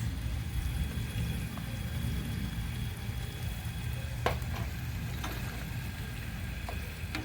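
Chicken karahi sizzles steadily in a pan, a dense continuous frying hiss with a few faint knocks of stirring toward the end, no voices.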